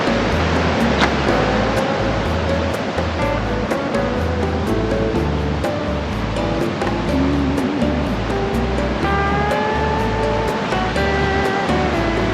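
Ocean surf rolls in steadily at Honolulu Beach Park on Hilo Bay, a continuous broadband wash of waves with a low rumble underneath. Faint tonal sounds drift in the background, and no one speaks.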